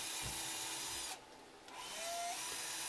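A power drill whirs steadily, drilling holes into a workpiece backed by a piece of wood, briefly easing off partway through before spinning up again, close by with no talking.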